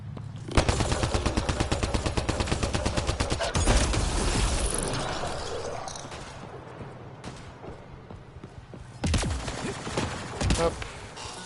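Rapid automatic gunfire from a video game, a fast regular burst of shots up close followed by further louder volleys with mechanical clatter, heard without talk.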